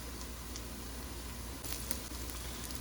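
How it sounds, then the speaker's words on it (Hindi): Onions frying lightly in a pan for chicken karahi, a soft, constant sizzle with faint crackles and a brief louder burst of spattering partway through, quiet and close. "जो प्याज है वो फ्राई होना स्टार्ट हो गया।"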